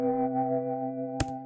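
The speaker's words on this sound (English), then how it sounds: "Put some processing on, some Valhalla vintage verb, some RC20, some channel EQ, and this tremolator, which made it sound like this." Sky Keys electric piano sustaining a chord through a tremolator effect with vintage reverb and saturation, a steady warm tone gently pulsing in volume, with a brief click near the end.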